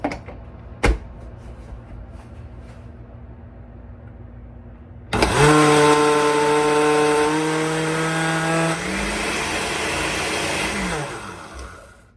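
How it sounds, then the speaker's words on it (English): A blender whirs loudly after a brief click and quiet hum, its motor pitch shifting as it churns jerk chicken ingredients for several seconds before stopping. "Now we're going to turn this blender on"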